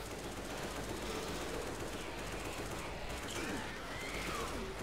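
Continuous gunfire from a Left 4 Dead 2 match, a dense busy layer of shots and game noise running steadily throughout at moderate level, with voices faintly mixed in.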